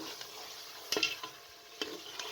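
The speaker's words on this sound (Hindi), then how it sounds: "और मज़ीद भून लें।" Beef frying in a pot with garlic and ginger while being stirred for nihari, a faint steady sizzle broken by a few sharp scraping clinks of the spoon.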